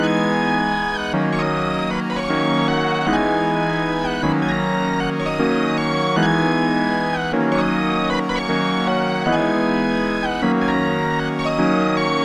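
A bright, dense synth lead using a Gravel Sludge preset plays a busy, rhythmic melody over thick bass, loud and continuous with regular chopped pulses.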